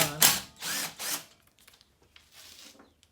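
A hand ratchet works on the bolts of a rear bracket on a GatorTail 35GTR mud motor. It gives three loud, close clicking pulls in quick succession, then fainter, scattered clicks and one softer pull.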